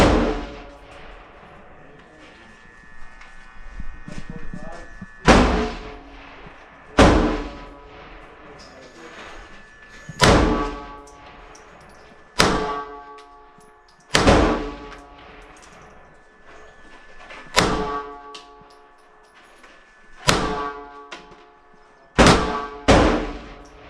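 Beretta 80X Cheetah pistol fired at a shooting range, about ten sharp loud reports spaced irregularly a second or two apart, the first a double-action shot, with ringing decay and quiet gaps of indistinct talk between shots.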